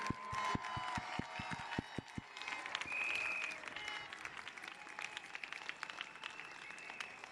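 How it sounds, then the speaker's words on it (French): An audience at an outdoor political speech applauds, starting with a few sharp, distinct claps that quickly spread into a sustained round of clapping, moderately distant and without talk. "Si elles pouvaient être applaudies, je pense qu'elles le méritent."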